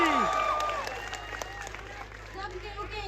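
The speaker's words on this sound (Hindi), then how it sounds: "अरे तनी वो ताली बजा के आशीर्वाद दे दो" A crowd at a live Bhojpuri music show gives brief applause and cheers as a blessing, starting loud and fading over a few seconds under a steady background hum.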